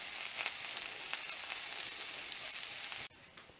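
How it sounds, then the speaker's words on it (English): Shallots sautéing in duck fat in a cast iron skillet, a steady close crackling sizzle that cuts off sharply near the end, leaving a quieter hiss. "just going to add that in and give that a little saute"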